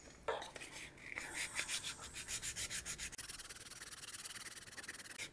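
A wooden dough whisk is sanded with fine sandpaper, a quick run of rhythmic back-and-forth rubbing strokes followed by steadier, softer scraping, close and fairly quiet with no talk.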